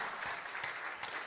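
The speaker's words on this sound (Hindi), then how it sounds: "ताली तो बजा लो एक बार।" A crowd at a devotional discourse on the Sundarkand claps together in a steady, dense round of applause, moderately loud and without talk.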